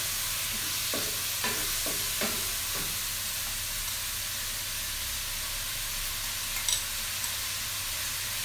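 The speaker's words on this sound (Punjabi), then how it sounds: "ਚਿਕਨ ਨੂੰ ਚੰਗੀ ਤਰ੍ਹਾਂ ਭੁੰਨਾਂਗੇ ਲਸਣ ਦੇ ਨਾਲ" Chicken and garlic fry in a pan while being stirred, giving a steady soft hiss. Several scraping stir strokes come early on, then a quieter sizzle carries on alone with no voices.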